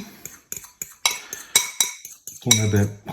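A fork clinks sharply against a bowl while beating egg yolks for a light soufflé omelette, a run of quick close metallic taps in an irregular rhythm, ending in a brief denser burst of scraping and clatter.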